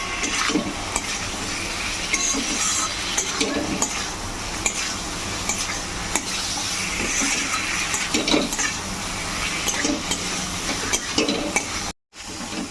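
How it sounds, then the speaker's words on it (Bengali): Half-boiled potatoes being stirred and fried with masala in a pan for a cauliflower and prawn curry, a steady close sizzle with repeated scraping of a spatula against the metal pan for most of the stretch. "এবার আলুগুলো দিয়েও ভালো করে মশলার সঙ্গে কষে নেবো।"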